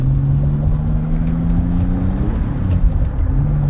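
A Pontiac Fiero drives along with a steady, smooth engine drone heard from inside, a rising and falling tone as it cruises at moderate speed.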